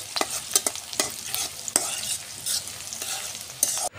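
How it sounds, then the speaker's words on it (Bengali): Onions frying in oil with cardamom, cinnamon and bay leaf, stirred in the pan: a constant bright sizzle broken by repeated scraping strokes, loud and close, with no talking. "প্রথমে আমি এলাচ দারুচিনি দিয়ে দিলাম পেঁয়াজের সাথে, কিছুক্ষণ ভেজে তারপর তেজপাতা দিয়ে দিলাম"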